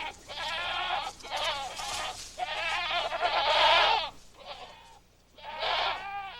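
Goats loose in a forest bleat in several loud, wavering calls, one after another with short pauses between them.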